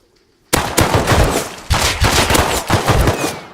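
Rapid automatic gunfire in the survival game Rust, in a snowy biome, lands two headshots: one loud, dense burst starts abruptly and runs for about three seconds with short stutters and no talk over it.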